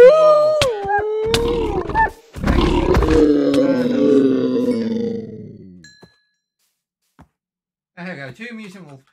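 A mutant wolf from a Minecraft Bedrock mutants addon lets out several loud, close howls and growling roars, with grunting bursts, then falls silent before a short final snarl, with a voice speaking over parts of it.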